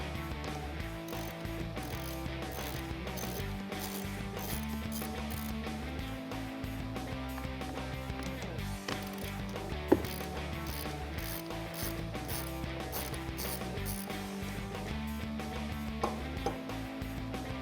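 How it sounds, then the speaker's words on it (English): A T15 Torx socket on a ratchet backs out the MAF sensor bolts on a 2018-2020 Mustang GT, a steady run of fast, close ratchet clicks with occasional sharper ticks. "We're gonna remove the 2 bolts that hold on our MAF sensor."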